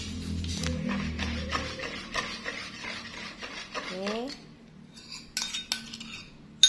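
A spoon or whisk stirs risoles batter in a bowl, giving repeated scraping strokes and light metallic clinks against the side, close by, with brief talk heard over the mixing.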